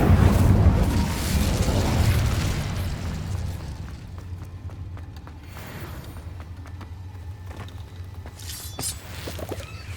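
A burst of flame from the Incendio fire spell in Hogwarts Legacy, a loud rumbling whoosh that swells at the start and then fades into a lower crackling tail with small mechanical clicks.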